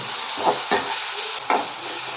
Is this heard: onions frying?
yes